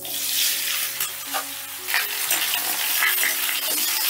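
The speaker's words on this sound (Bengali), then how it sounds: "ফোড়নটা একটু নাড়াচাড়া করে দিয়ে দিচ্ছি কেটে রাখা আমগুলো" Raw mango pieces frying in hot oil with five-spice, a bright continuous sizzle with scraping stirring strokes, close and steady.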